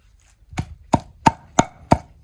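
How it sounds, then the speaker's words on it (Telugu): Coconut and tamarind chutney is pounded in a stone mortar: five evenly spaced, heavy thuds, close and clear against a quiet background. "ఇప్పుడు లాస్ట్లో కొబ్బరికాయ కూడా వేసుకుని దంచుకుందాం."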